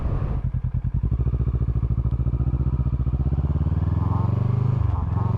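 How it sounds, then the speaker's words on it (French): A Kawasaki ER6N motorcycle engine idles with a rapid, uneven popping rhythm, loud and close, its crackling exhaust sputtering steadily throughout after an air filter change. "depuis je trouve que ma moto fait un pétarade de malade"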